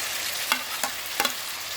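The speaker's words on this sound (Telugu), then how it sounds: "టొమాటోస్ వేసుకొని బాగా కలుపుకోవాలి" Tomatoes frying with onions in hot oil for a drumstick curry, a steady sizzle with three or four sharp spoon scrapes as the pan is stirred, close and without talk.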